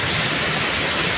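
Heavy rain pours down on a street in the Pandesara Chikuwadi area of Surat, a dense, steady broadband hiss filling the whole moment, loud and close with no voices.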